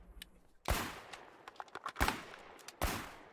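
Gunfire in the online war game Foxhole: a few sharp, loud shots at irregular intervals, with three big bursts standing out over a quieter background of smaller distant cracks.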